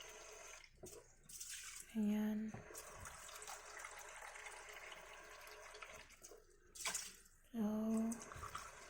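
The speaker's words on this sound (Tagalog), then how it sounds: "Dito tayo kukuha ng tubig sa filter." Water trickles and splashes from a filter into a container as drinking water is measured out for cooking. The pour runs fairly quietly in a kitchen, with a couple of brief louder splashes or taps, and a person speaks briefly.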